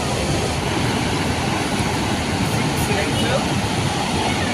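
Loud, steady roar of water rushing over the gates of a dam, continuous and unbroken, with a windy hiss over it and no pauses.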